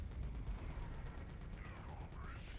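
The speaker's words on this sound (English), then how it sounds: "Now there's the Tempest cannon." The Tempest cannon fires from the Leviathan ship in Fractured Space, a quick series of evenly spaced, fairly faint bursts over a low rumbling battle background.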